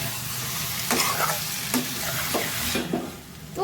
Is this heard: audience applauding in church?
no